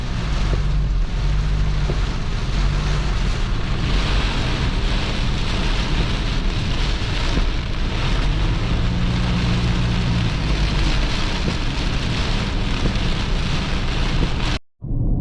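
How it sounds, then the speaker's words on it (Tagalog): Heavy rain roars steadily with gusty wind noise, loud and close throughout, cutting off abruptly near the end. "Grabe ang hangin ug ang ulan kusog kayo."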